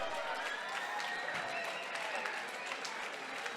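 Crowd applause follows the judges' decision at a mixed martial arts fight night, a steady wash of clapping and crowd noise under a loud announcer-style voice.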